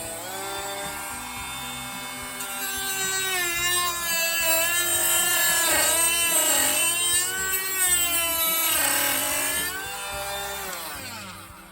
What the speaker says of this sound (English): I'm going to try to clean up this cavity with the Dremel a little bit